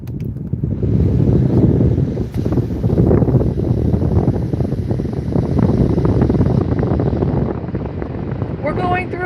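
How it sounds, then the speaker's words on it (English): Heavy wind buffeting a phone microphone while passing through a windy tunnel, a loud continuous roar and rumble lasting throughout, with a person talking over it. "We're going through a windy tunnel."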